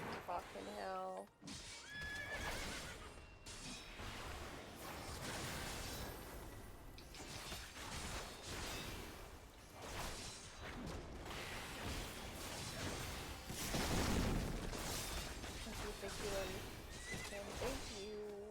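Horses in the Final Fantasy XIV video game whinny and neigh repeatedly, with clip-clopping hooves and creaking mechanisms in the game audio. A player talks throughout.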